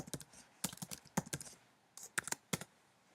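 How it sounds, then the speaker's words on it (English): Someone types on a computer keyboard in short irregular bursts of crisp, close key clicks, separated by brief pauses, with no other sound. "I'm going to type them in."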